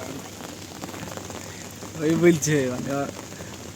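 Heavy rain pours steadily in a broad, even wash, with a person talking over it partway through.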